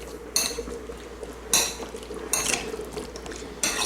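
A spoon mixing pineapple-cilantro salsa with lime in a bowl, heard as a few sharp clinks and scrapes against the dish at irregular intervals over a soft, steady background.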